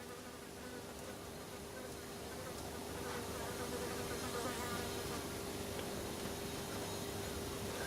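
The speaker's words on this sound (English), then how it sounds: "You start to hear the arc" A steady electrical buzz from an electric arc inside a vacuum chamber hums continuously, fairly faint and even, swelling slightly partway through with no voices.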